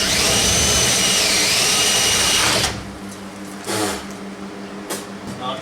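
Power drill boring a 1-inch hole into a shop ceiling, a loud whirring spin for about two and a half seconds that cuts off, followed by a few brief scraping knocks.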